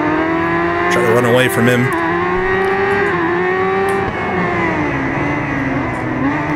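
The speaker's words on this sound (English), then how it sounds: "I can hear another bike behind me as well" Engine of a racing motorcycle in RIDE 5 during a Le Mans endurance race, a steady loud whine with rising and falling pitch through the clip, blended with another bike's engine, with someone talking over it.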